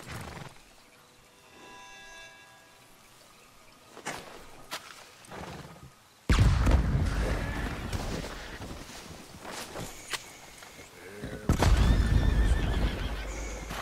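A horse in Red Dead Redemption 2 whinnies loudly and its hooves clop, with sparse quieter sounds early on and bursts of louder neighing and movement later.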